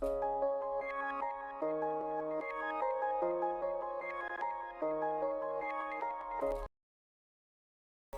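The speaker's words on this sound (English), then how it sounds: "I use this piano V2 preset." A pop fading piano preset from a piano V2 plugin plays a looping type-beat melody with soft, decaying chords and notes, steady and moderately loud, then cuts to silence near the end.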